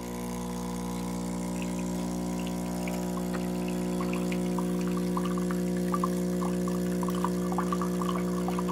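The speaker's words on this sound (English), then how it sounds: "You can see the pressure starts to build as the water's heating up and brewing." A SUMSATY retro espresso machine brews coffee as water heats and pressure builds. Its pump gives a constant loud hum, and small gurgling, dripping sounds grow over the steady drone.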